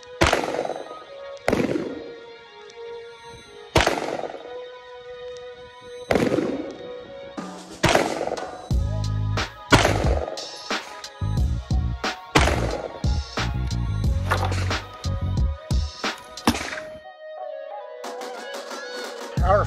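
A firearm fitted with a budget red dot optic fires a five-round group, sharp loud reports spaced irregularly every couple of seconds, each followed by a ringing decay.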